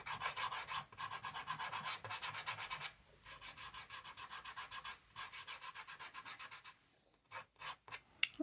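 Sennelier soft pastels rubbed across paper make a close, dry scratchy rasp in quick repeated strokes, steady for several seconds, then a pause and a few short separate scrapes at the end.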